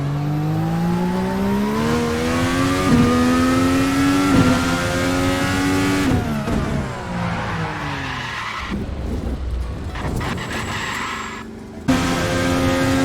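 A Formula NA 2021 Indy-style open-wheel race car in a sim racing game screams through a hot lap, its high-revving engine rising and falling through gear changes with bursts of tire squeal and skidding, loud and continuous.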